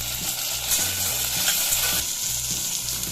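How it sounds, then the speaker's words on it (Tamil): Onions fry with a little salt in a pressure cooker for mutton biryani, a continuous close sizzle with stirring over a background music bed. "வெங்காயம் வாங்க லைட்டாக உப்பு போட்டு வணக்கிக்கலாம்."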